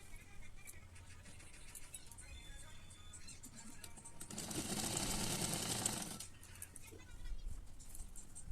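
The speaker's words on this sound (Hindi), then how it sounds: "हम लोग इस तरह से इसको सिलाई लगा लेंगे।" A sewing machine runs in one steady burst of stitching as a belt is sewn onto trousers, loud for about two seconds mid-clip, with quieter workshop noise before and after.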